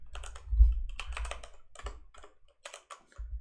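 Rapid clicking of computer keyboard keys for Ctrl X and Ctrl V shortcuts, clustered bursts of close, crisp taps with a few heavier thumps and brief pauses.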